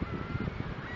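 A person imitates a bird call with a honking, goose-like voice, repeated in quick bursts close by without pauses.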